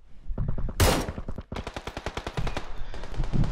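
Automatic gunfire in the video game PUBG, with loud rapid bursts of shots, a sharp single crack and then a long fast string of rounds close by.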